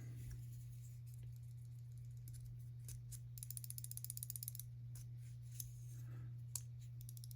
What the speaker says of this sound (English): when I pull it back, it still rattles